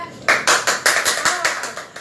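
Steady hand clapping at an even beat, about eight claps in two seconds, loud and close with a slight room echo.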